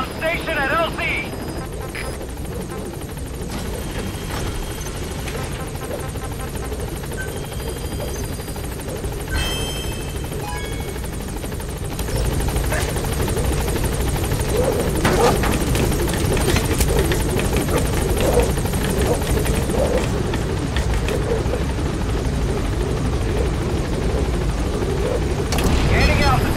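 The Pequod helicopter in Metal Gear Solid V comes in to a landing zone, a loud continuous rotor and engine drone that swells louder partway through, with radio voice lines spoken over it.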